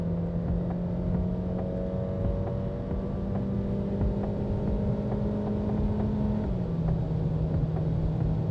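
Honda Fit racing car lapping Fuji Speedway with an aftermarket GT wing, heard as a steady, close engine drone from inside the car whose pitch dips briefly near the end, with no talking.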